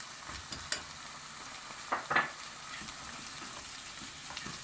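Orzo pilaf with salt, black pepper and chili flakes being stirred and sautéed in a pan, a faint steady sizzle with a few brief scraping stir sounds near the middle.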